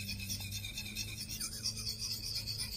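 A knife sharpening whetstone being lapped flat on a diamond plate or sandpaper, giving a steady, close gritty rasp of continuous rubbing strokes with no talking.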